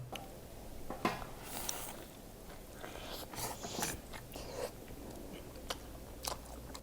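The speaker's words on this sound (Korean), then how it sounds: "거기 버거를 일단 한번 먹어보겠습니다." Someone bites into and chews a signature burger from a burger shop in Mangmi-dong, Busan, with close, soft crunching and squishy chewing sounds over quiet background hiss.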